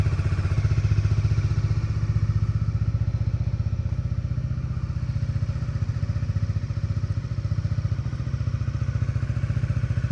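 A Bajaj Dominar 400 motorcycle idles to warm up, its engine putting out a steady, loud, low rhythmic thumping pulse throughout, heard up close with no talking.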